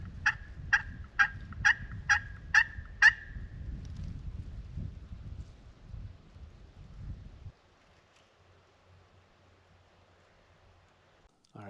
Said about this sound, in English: I think that's a turkey that's calling right now.